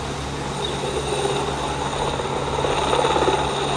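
A helicopter drones steadily with a low rotor thrum and whine, fairly close and continuous, no voices.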